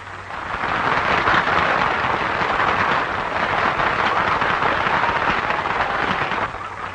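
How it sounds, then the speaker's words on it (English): An audience bursts into sustained, dense applause for a composer and the woman who inspired his song, a broad roar of clapping that swells quickly and holds steady for several seconds with no voices heard. "They're applauding the hussy."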